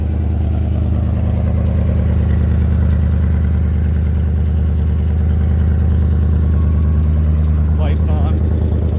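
A 1956 Ford Fairlane Victoria's engine idles steadily at low speed, a close, even rumble with a faint mechanical clatter, running continuously throughout with no talking.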